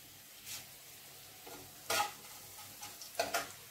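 Panch phoron five-spice seeds sizzle in hot oil, a faint hiss broken by a few sharp crackling spurts and pops at close range, with no talk.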